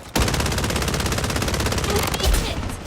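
A rapid, sustained automatic-fire burst from a gun in the video game Blood Strike, loud and close, with dense evenly spaced shots running almost the full length.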